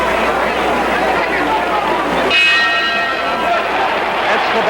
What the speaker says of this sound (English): That's the bell for round 4.